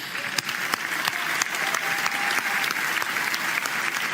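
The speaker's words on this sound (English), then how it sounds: "We can applaud them, please." Audience applause at the Ballon d'Or ceremony: a full hall clapping steadily and evenly for several seconds, dense and continuous without a break.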